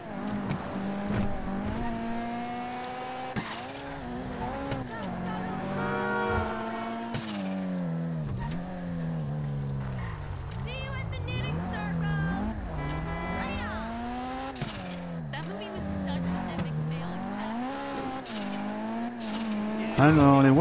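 Cars drive and rev through a warm-up lap in GTA 5 Online, with engine pitch rising and falling continuously and occasional tire squeals, all under ongoing speech.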